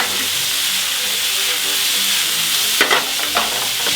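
Duck pieces searing in a pan give a loud, continuous close sizzle and hiss, with a few scraping clunks near the end as the pieces are turned; no talking.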